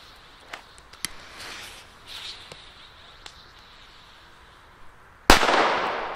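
Chinese firecrackers go off outdoors, with a few small scattered pops and crackles followed by one sharp, loud bang near the end that leaves a trailing rumble.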